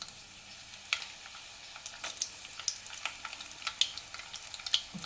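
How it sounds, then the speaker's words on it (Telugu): Cumin seeds and a dried red chili frying in hot oil for a Telugu tempering for carrot curry, giving a steady quiet sizzle with sharp crackles and pops scattered throughout, close up with no talk. "పోపు అయితే ఇంకా మంచిగా వేగుతుంది."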